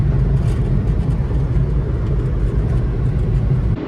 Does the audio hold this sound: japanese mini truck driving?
yes